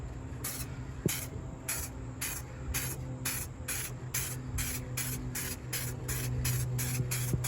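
A rattle can of spray paint mists a Ruger 10/22 rifle in short regular bursts, roughly a dozen hissing sprays in a steady rhythm over a low background hum, close and without talk.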